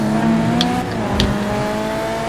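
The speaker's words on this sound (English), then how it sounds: "I'm parking this car in the garage." A car engine in GTA 5 drones and revs steadily at close range as the car is parked in a garage, a loud sustained hum with slight shifts in pitch and no speech.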